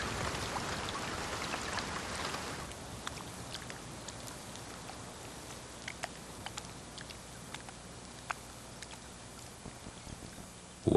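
Rain falls in the wild, a soft, steady hiss with scattered close drops pattering and ticking over it, heavier at first and then settling into a quieter, even patter.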